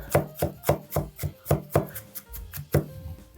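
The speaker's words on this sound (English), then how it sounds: "we'll put a fine mince on this garlic" A knife finely minces garlic on a cutting board in quick, evenly spaced chops, about a dozen crisp knocks close up, with no talking.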